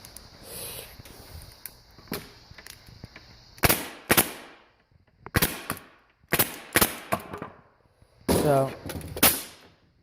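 Pneumatic nail gun powered by a Husky 30-gallon air compressor, firing a series of sharp, loud pops in uneven pairs and clusters, close by, with a brief word spoken early on.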